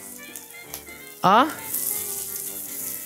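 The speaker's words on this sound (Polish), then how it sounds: "Buracki przetwarzane na placki się smażą" Grated beetroot pancakes sizzle and crackle steadily in a frying pan, a constant close hiss of hot oil, with a brief vocal exclamation cutting in partway through.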